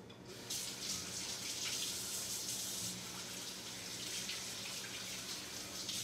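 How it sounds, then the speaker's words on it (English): Water runs from a kitchen tap as hands are washed, a continuous close rushing and splashing that stays loud and even throughout, with no talking. "and now I'm gonna wash my hands."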